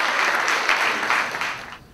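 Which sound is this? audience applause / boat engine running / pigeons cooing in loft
audience applause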